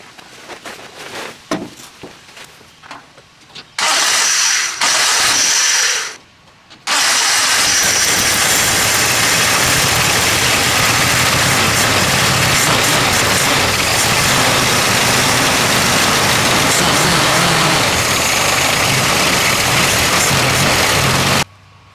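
Jeep CJ2A with a freshly installed carburetor float cranks in short bursts, catches, then settles into a loud, steady rough idle that runs on close by.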